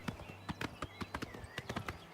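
Horse hooves clip-clopping in a steady walking rhythm in the video game Oblivion Remastered, clear, evenly spaced thuds over faint ambient game sound.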